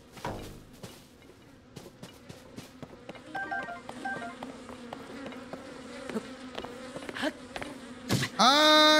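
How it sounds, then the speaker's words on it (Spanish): Bees swarm around a hive in the video game Zelda: Tears of the Kingdom, a steady insect buzz with game sound effects, clicks and a bright chime near the end. "¡Ay, me comen las abejas!"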